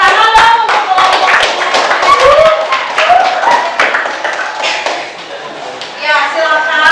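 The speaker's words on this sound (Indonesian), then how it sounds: "Tepuk tangan dong untuk kelompok." Students in a classroom clap their hands for a presenting group, a loose run of sharp claps close by, with voices talking over and around the clapping.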